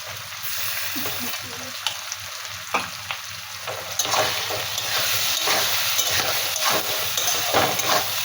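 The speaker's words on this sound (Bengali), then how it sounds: "সব মশলা দিয়ে এবার এটা ভালো করে কষিয়ে নেবো।" Cauliflower frying with ginger, garlic, soaked spice paste, chili, cumin and coriander powder in a pan for a fish curry, with a steady close sizzle and scraping spatula strokes throughout.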